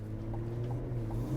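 Steady low drone of a 2021 Chevrolet Tahoe's diesel engine while driving, a smooth cabin hum with faint road rumble and no voices over it.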